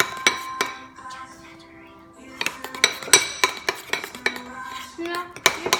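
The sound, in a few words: mixing slime with food coloring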